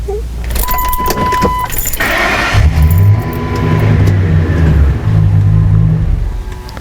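A 2002 Ford Excursion with a 6.8L engine idles loudly close by, with a steady low engine hum and a fluctuating tone, then the engine note changes and fades toward a stall.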